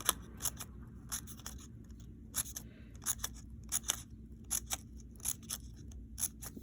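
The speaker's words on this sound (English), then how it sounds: "you can just kind of cut some little snips right out of your paper strip" Scissors snip repeatedly through a paper strip for a simple 3-D paper flower craft, a series of crisp, close cuts in uneven bursts against a quiet background.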